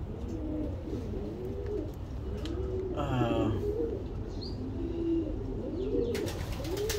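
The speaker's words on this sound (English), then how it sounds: "Here also some of the pigeons." Racing pigeons coo in a loft in Dubai, with repeated soft, throaty coos rolling on steadily over a constant background hum and a few brighter chirps scattered through.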